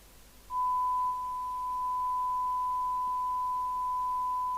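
Steady test tone from a signal generator heard through a Rotel RVC220 UK FM CB radio speaker, starting abruptly and holding a single pure pitch over a soft background hiss.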